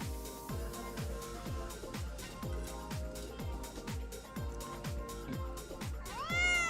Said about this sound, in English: And that's a cat in the bush.